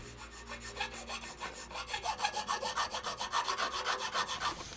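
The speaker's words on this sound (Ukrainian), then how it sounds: "Напилком підрівняємо." A metal file rasps back and forth across a polymorph plastic mold for a fishing spoon lure, a steady run of rhythmic scraping strokes that grows louder and more regular, close up with no talk.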